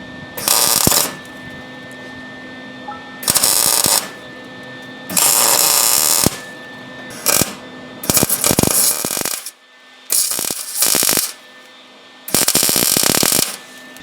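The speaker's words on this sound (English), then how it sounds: "Alright, now we're going to start welding this." Welding subframe connectors onto a car frame comes through as loud bursts of harsh crackling buzz, about seven separate runs lasting one to two seconds each, with quieter machine hum in the gaps between them.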